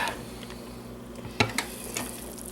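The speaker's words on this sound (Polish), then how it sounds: "Tutaj nam się gotuje, zobaczcie." Food sizzles and bubbles softly in a pot on a kitchen stove, with a steady hum underneath and a few light clinks from a utensil.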